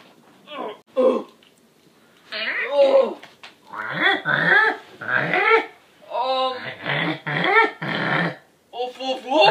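A voice makes a series of rough, guttural growling and grunting noises in bursts, imitating a dog, with short pauses between them.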